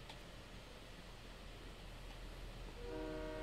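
Train in the video game Reckless Railways, a steady rumbling rail roar that swells near the end as a sustained multi-tone horn sounds, loud and continuous with no talking.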